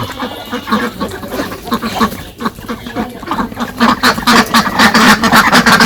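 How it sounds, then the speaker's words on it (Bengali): Ducks quack repeatedly as they come back home to a Bangladeshi village farm in the late afternoon, the calls close and fairly loud, growing denser toward the end with some voices mixed in. "হাঁস এখনই এসে পড়ছে বাড়িতে"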